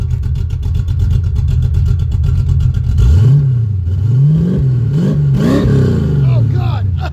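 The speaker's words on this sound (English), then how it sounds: "Rev it up, boy!" A project Ford Mustang engine rumbles at a steady, loud idle, then rises into several sharp revs that swoop up and fall back, very close.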